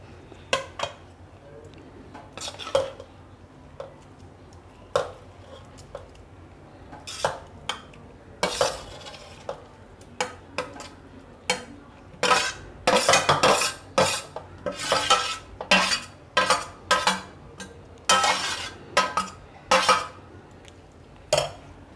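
A spoon scrapes and clinks against a bowl while vegetables are stirred into thick handvo batter, irregular at first and then a fast run of repeated clatters, close by with no voices.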